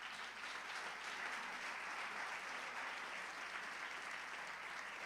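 A church congregation at a Sunday celebration service applauds Jesus, a steady, dense wash of many hands clapping that carries on without a break. It sounds moderately distant and even throughout.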